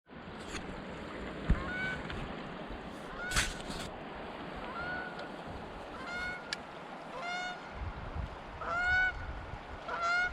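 Geese on a river honk repeatedly at a distance over a soft outdoor background, with scattered calls and a few sharp knocks.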